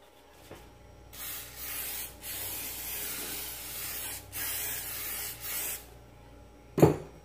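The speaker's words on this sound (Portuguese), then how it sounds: "eu vou usar o desmoldante" Aerosol release agent sprayed into a cake pan for a chocolate heart cake, several separate hissing bursts of roughly a second each, followed by a brief clunk at the end.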